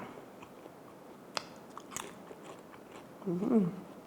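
Biting into crispy salt-fried pork belly flavoured with kaffir lime leaves, a few quiet close crunches and a short burst of chewing near the end, faint and alone.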